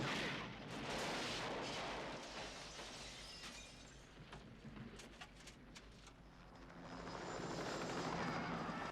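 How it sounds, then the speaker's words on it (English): Huey helicopter flying in a 1986 film: loud rotor and aircraft roar with sharp bangs and crashes layered over it, swelling again toward the end. "There's the Huey. It's a chopper."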